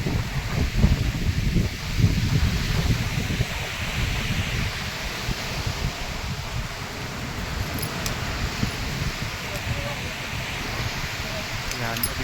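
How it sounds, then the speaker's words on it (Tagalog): Outdoor wind buffeting the microphone, a continuous rumbling rush throughout with faint rustling on top and some voices mixed in underneath. "Dito mahangin"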